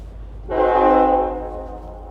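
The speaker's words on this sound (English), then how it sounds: "Y'all could probably hear that train blazing the horn." A train horn in Collierville, Tennessee, blows one long, loud blast, swelling then fading away, with no talking.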